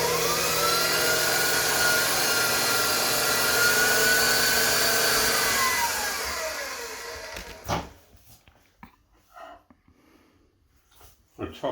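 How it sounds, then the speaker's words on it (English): An electric hand mixer whips cream with a steady loud whirring drone, its pitch wavering slightly, then it stops around the eighth second; a person speaks over the quieter remainder. "And I'm going to continue whipping our cream."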